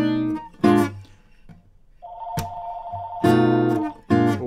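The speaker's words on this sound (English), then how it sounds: "We'll wait till that stops ringing." A telephone rings with a steady electronic tone for about a second during a live home music broadcast, set between louder bursts of music.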